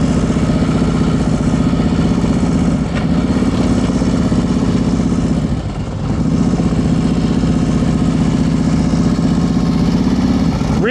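A motorcycle engine idles and runs at low speed during a slow-ride exercise, a steady, loud mid-pitched drone with a brief dip near the middle and a final sharp rise.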